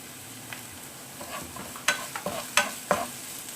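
Onions and vegetables for spicy veg pasta frying in a pan, a low sizzle punctuated by several sharp scraping stirs of a utensil, getting busier toward the end.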